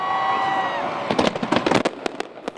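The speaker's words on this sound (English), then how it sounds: "fireworks have lit up the sky in Cincinnati" Fireworks burst over the river in Cincinnati at the annual Labor Day display: a rising whistle gives way to a dense volley of loud, sharp crackles and pops, with faint crowd noise beneath.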